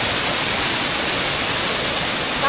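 Steady, loud rush of a mountain waterfall, a dense continuous roar of falling water close by with no break and no voices.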